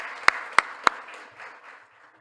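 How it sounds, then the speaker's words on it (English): At an annual meeting's round-table session, three sharp, loud claps ring out close by, followed by soft, scattered applause from the room that quickly fades away. "All right, round of applause."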